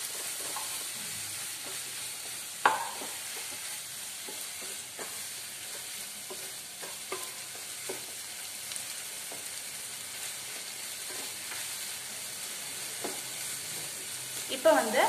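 Ginger garlic paste fries in a pan for a restaurant-style mushroom gravy, with a steady low sizzle throughout and occasional quiet scrapes and knocks of a stirring spoon.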